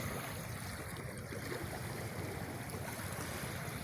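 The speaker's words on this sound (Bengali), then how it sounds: "আর এই যে সাগরের মনোমুগ্ধকর ঢেউ" Calm sea waves wash onto a shore in a continuous, even roar of surf with no distinct breaks, heard alone without voices.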